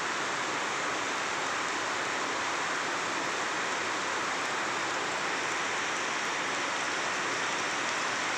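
Heavy rain pours down over a town, steady and dense like hiss from start to finish, loud and unbroken, with no voices.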